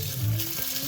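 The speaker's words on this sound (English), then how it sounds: "Stir them all up." Two eggs being stirred in a hot pan for an instant noodle dish give a brief, steady sizzle with soft scraping, close and fairly loud, lasting under a second.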